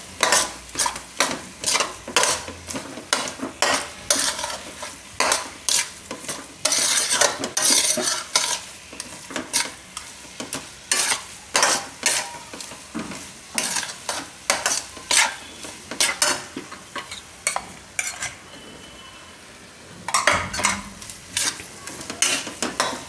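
A spoon scrapes and stirs flour roasting in a pan for sukhdi, a Gujarati sweet, in quick repeated strokes with a faint sizzle. Nobody talks.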